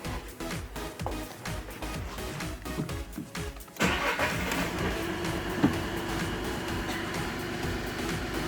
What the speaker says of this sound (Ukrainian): Заведемо машину.